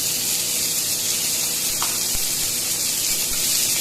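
Onion frying in hot oil in a pan on the stove, a continuous bright hiss and crackle of sizzling that stays even and close throughout.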